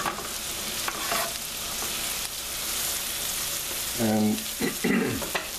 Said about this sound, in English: Sauteing this. You add the garlic to that mix.